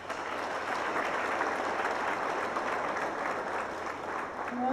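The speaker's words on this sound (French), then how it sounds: "nous avons demandé un gros applaudissement pour la police" Applause for the national police at a police graduation ceremony, a dense and sustained ovation from a large audience that stays loud and even throughout, with no voices over it.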